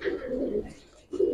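A male Giribaz pigeon coos close by in two short throaty bursts, separated by a brief pause, alone and fairly soft.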